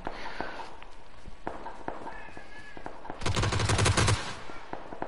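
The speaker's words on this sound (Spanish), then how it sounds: "Escucho las balas, pero no los veo." In PUBG Battlegrounds, scattered single shots crack faintly before a loud, close burst of automatic gunfire erupts for about a second, then fades back to sparse distant reports.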